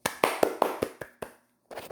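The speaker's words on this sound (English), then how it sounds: "Zombie applause." Claps for the zombies in a Plants vs. Zombies game sound out as a short run of about seven sharp, close hand claps at an even pace, then a brief silence before a few quicker claps return.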